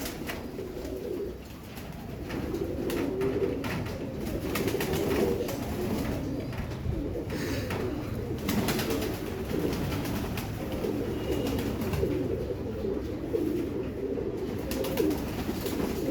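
Imam Deen pigeons, males and females, coo continuously in soft repeated phrases over a steady background hiss, close by and moderately loud, with no talking.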